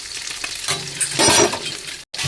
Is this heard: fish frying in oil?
yes